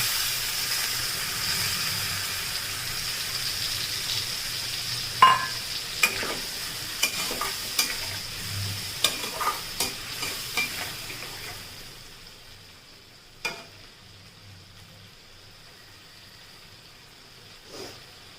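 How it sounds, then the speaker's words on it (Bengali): Potatoes added to fried onions with spice and a pinch of sugar, frying in a pan with a steady sizzle and repeated stirring knocks that thins to a faint hiss toward the end. "পেঁয়াজটা ভাজা হয়ে গেছে, এবার দিয়ে দেবো আমি আলুগুলো"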